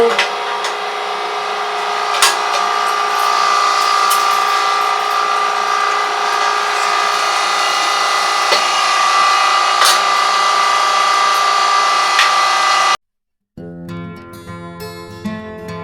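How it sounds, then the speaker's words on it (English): An electric meat grinder grinds meat for hamburger inside an RV, a loud continuous motor whine with a steady hum running for about thirteen seconds before it cuts out, followed by a different tonal sound. "and then I'll put it through the grinder again."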